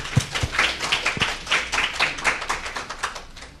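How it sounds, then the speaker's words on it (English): A small audience at a community meeting on job training programs claps briefly, with uneven, fairly close individual claps forming a light, irregular patter. "Let's give them a round of applause."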